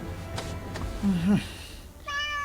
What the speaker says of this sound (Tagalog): pusa mo't ni kumare Milina na ito